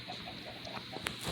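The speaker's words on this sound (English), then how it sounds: "Okay, so I want more chickens." A few soft chicken clucks come from the Minecraft video game, faint short calls sitting under a steady background hum.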